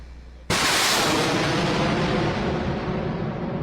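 A single powerful boom from army artillery fire bursts out suddenly, then rolls into a long, rumbling decay that fills the rest of the moment without any voices.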